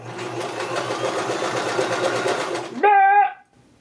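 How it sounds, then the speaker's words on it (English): Sewing machine stitching along a fire flow costume edge during alterations, a steady rapid mechanical whir running continuously for nearly three seconds, then stopping as a brief tonal sound rings out. "I'm just sewing right off the edge."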